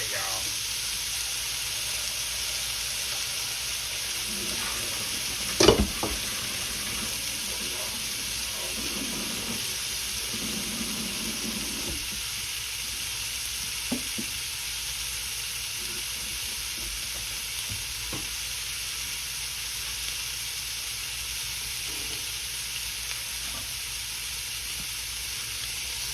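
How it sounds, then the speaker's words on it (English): Shrimp sizzling on a hot grill for old-school grilled shrimp and grits, a constant close hiss with a sharp clatter near six seconds and faint scattered ticks, no talking. "we'll just get a good grill mark on them"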